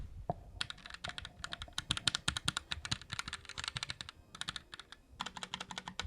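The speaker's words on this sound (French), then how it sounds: "en clavier, j'ai un Turtle Beach Vulcan 1 qui était l'ancienne marque Rockate" Rapid typing on a Turtle Beach Vulcan 1 mechanical keyboard, close and crisp, with dense bursts of key clicks broken by short pauses and no voices.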